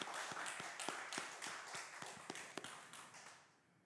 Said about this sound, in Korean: 하나님 앞에 영광의 박수를 올려드립시다.